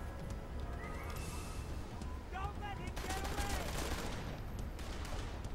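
Gunfire from the Western-style shooter game Blues and Bullets, with repeated shots and bursts over a busy, loud game mix where a horse also seems to whinny, while someone talks throughout.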